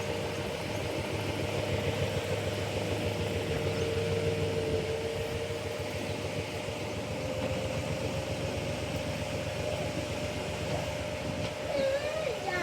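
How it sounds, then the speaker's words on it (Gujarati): A farm tractor heading out to sow soybeans runs with a steady, droning engine rumble that holds evenly throughout at moderate distance, with faint voices in the background. "હવે જાય છે વાવવા ટ્રેક્ટર."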